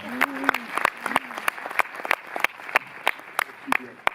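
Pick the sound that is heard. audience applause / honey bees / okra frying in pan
audience applause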